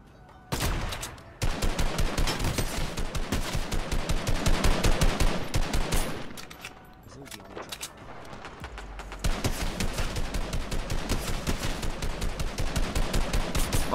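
Rapid automatic gunfire in the video game Fortnite, dense loud bursts of rattling shots continuing for long stretches with a brief lull in the middle before firing resumes.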